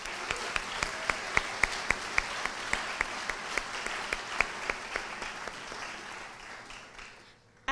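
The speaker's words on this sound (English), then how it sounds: "Let's give Dr. Graham one more 4-H round of applause." An audience at a 4-H awards ceremony applauds, with a moderately sized crowd clapping in a steady patter where individual claps stand out, then fading away near the end.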